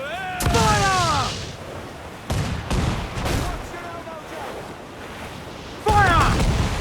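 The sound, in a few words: ship cannons firing in Assassin's Creed IV Black Flag video game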